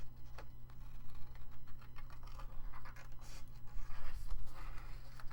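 Quiet scratchy scraping and snipping as layered paper is cut, a series of short irregular strokes over a low steady hum, close and faint.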